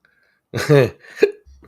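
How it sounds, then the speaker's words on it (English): Sharp, throaty hiccups after gulping a drink too fast: a voiced hiccup burst followed by a second quick one, close and fairly loud. "Ooh, got the hiccups. I drank that one too fast."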